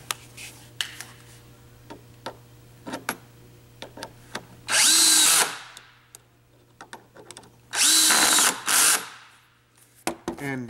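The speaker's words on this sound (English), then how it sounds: "We'll put these screws back in here." A power driver runs screws back into the propeller housing of a third-generation Encore pedal boat. It makes two loud, close whirring bursts, and scattered light clicks and taps fill the gaps around them.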